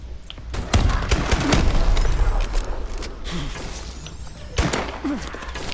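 Gunfire in a first-person shooter video game: a cluster of sharp, loud shots in quick succession, then a brief lull and another burst, set against continuous game ambience.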